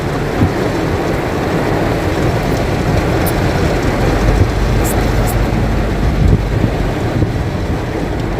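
Heavy rain drums steadily on a car as it is driven slowly, a loud, dense, unbroken wash of noise with rumbling low end and no talking.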